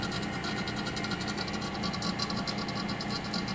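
A Harbor Freight AC vacuum pump runs steadily close by, a loud even mechanical drone with a fast rattling pulse throughout and no voices over it.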